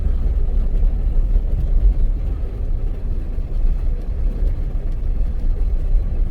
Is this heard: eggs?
no